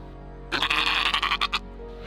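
A goat in labor lets out one loud, close, wavering bleat lasting about a second over a quiet background hum.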